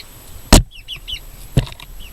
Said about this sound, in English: the reason I say that is because of that chicken right there.